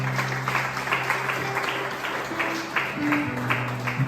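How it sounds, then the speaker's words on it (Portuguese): A church congregation clapping together in worship, a steady rhythmic applause with a sustained tone underneath, filling the room at moderate loudness. "Vamos aplaudir o nome do Senhor Jesus?"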